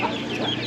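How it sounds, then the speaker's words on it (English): Chickens at a rural spot in Sawankhalok, Thailand, cluck in a short, close burst of clucking calls lasting under a second. "Hello, chickens."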